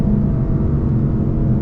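A Lexus LC 500 V8 rumbles low and loud at close range during a downshift on a road trip, a steady throaty drone with a pitch that wavers briefly, with no talking.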